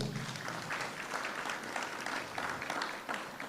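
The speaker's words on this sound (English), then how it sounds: "Let's give a round of applause" Audience applause at a cybersecurity tech hackathon, a steady wash of many hands clapping together, fairly soft and distant, continuing evenly throughout with no voices standing out.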